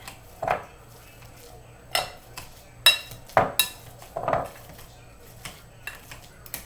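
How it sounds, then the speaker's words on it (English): Banana mashed in a bowl with a utensil for blueberry banana bread batter, heard as a handful of separate clinks and scrapes against the bowl with soft pauses between them, close up. "I'm going to squish my banana up so it mixes into my bread"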